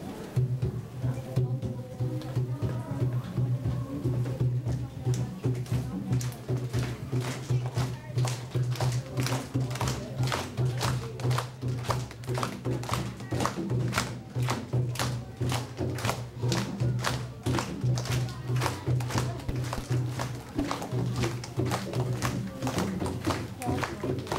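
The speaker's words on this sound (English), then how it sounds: "It is called the Ashiko rhythm," Steady hand drumming of the Ashiko rhythm, sharp slaps over a low sustained hum, continuous and close.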